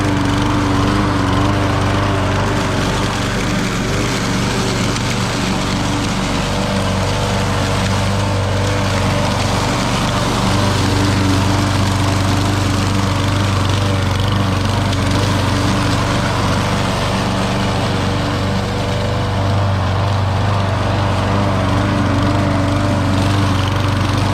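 A Murray lawn mower engine drones steadily and loudly throughout while chopping up leaves, with a constant low rumble and no talking.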